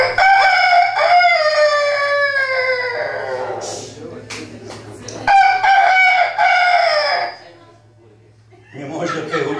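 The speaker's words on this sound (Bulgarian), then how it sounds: "Кукурига най-малко петле." A young rooster in a rural farmyard attempts a crow, producing a strained, uneven cock-a-doodle-doo that repeats, with a broken, wavering second attempt and people talking and chuckling nearby in between.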